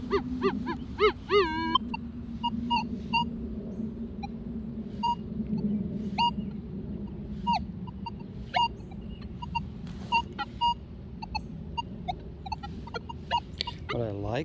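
A Manticore metal detector sweeping for silver coins gives high, warbling target tones and a series of short, sharp beeps at an uneven pace, over a low background rumble with some faint talk.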